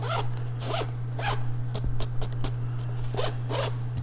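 Quick, repeated zipper pulls zip back and forth close up, several rasping strokes in bursts with short pauses, over a low steady hum.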